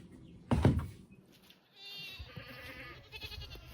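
Goats bleat at feeding time on a livestock farm, with one loud close bleat followed by fainter, wavering calls from the herd amid soft background movement.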